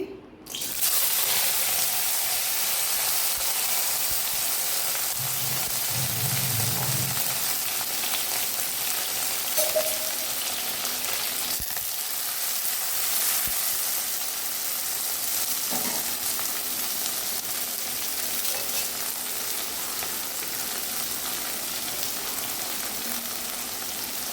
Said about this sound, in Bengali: ফ্রাই করব। দেখো করলা কেটে রেখেছি, করলা দিয়ে দিচ্ছি।